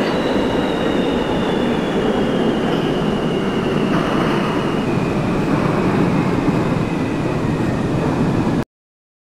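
An R160 subway train runs in the OpenBVE train simulator, a loud continuous roar of wheels and motors with a faint high squeal drifting in pitch, steady throughout before cutting off abruptly near the end.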